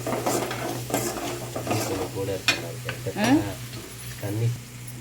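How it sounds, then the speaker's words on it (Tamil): Onions sizzle in a pan while a spatula stirs and scrapes them in repeated close strokes, with a faint voice partly audible underneath. "இது கூட வெங்காயம் நல்லா வதங்கும்"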